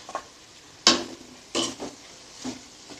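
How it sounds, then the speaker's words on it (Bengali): Onions frying in oil left over from frying potatoes give a soft sizzle, broken by a few sharp scraping stir strokes and pan clinks, close and fairly quiet. "আলু ভাজার তেলে আমি পেঁয়াজগুলো ভেজে নেব।"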